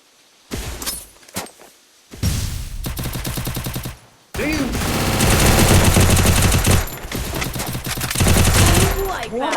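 Rapid bursts of automatic gunfire from the battle royale game Garena Free Fire, loud and dense, firing in several long volleys with brief gaps, some glassy shattering mixed in.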